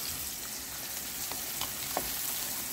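Onions fry in a pan, a steady close sizzle with a few soft clicks of a spatula stirring through, no voices over it.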